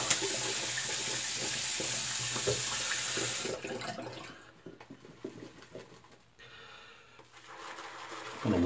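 Water runs steadily from a tap while a razor is rinsed under it, a close, continuous splashing hiss that drops off partway through, leaving fainter trickles and clinks.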